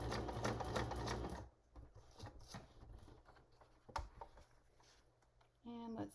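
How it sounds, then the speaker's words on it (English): A sewing machine stitches down paper on an ephemera holder, a rapid mechanical rattle that runs steadily for over a second, then continues in quieter, uneven bursts before a final short run; recorded close and fairly soft. "I'm going to just stitch down"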